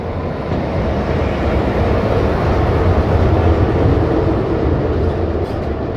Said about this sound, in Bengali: on duty অ্যালকো locomotive